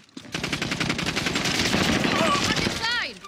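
Rapid automatic gunfire rattles in a sustained burst during a Warzone match, dense and loud for nearly three seconds, with a voice briefly heard near the end.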